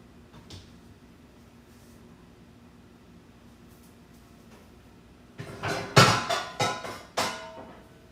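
A frying pan being taken from a kitchen cupboard, with a few quiet rustles followed by a cluster of loud clattering knocks and bangs as cookware is moved, close and without talk.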